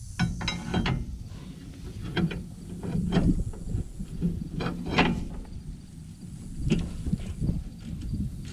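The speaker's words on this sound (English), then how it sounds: "First step in getting this pin pulled is to remove this bolt." A ratchet wrench loosening a bolt on a junkyard differential, repeated clicking ratchet strokes in bursts with metallic clanks between them, close and moderately loud.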